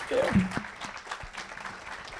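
A church congregation claps in a brief burst of applause, with voices calling out over the clapping.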